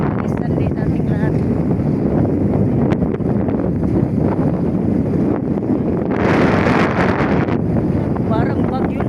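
Loud, gusting wind roars and buffets the microphone continuously, with a harsher rushing burst partway through.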